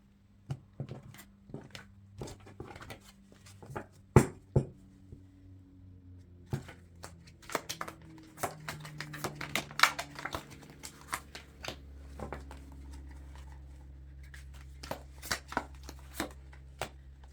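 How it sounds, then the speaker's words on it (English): A deck of tarot cards shuffled and cut by hand, with quick irregular riffling snaps and taps continuing throughout, close and crisp, with no talking. "go ahead and cut the deck"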